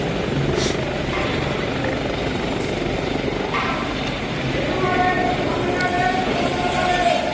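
A helicopter near an expressway, its rotor chop and turbine whine steady throughout with some faint background voices, moderately loud and not far off.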